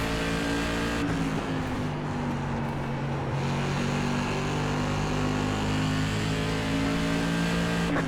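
An SK Modified race car in the iRacing game at Hickory drones steadily at full throttle, a loud continuous engine tone with shifting pitch and other cars buzzing nearby throughout.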